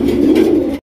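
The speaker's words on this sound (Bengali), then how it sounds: "বিশাল বড় সাইজের একজোড়া কালারিং রাজগোল্লা কবুতর" A pair of large coloured Rajgolla pigeons coo close by, one steady, throaty coo filling under a second before cutting off.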